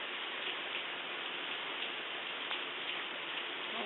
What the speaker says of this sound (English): How about this rain? It has rained for 40 days and 40 nights.